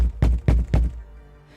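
Three heavy, evenly spaced thuds of a fist pounding on a bedroom door, loud and close, with no one speaking.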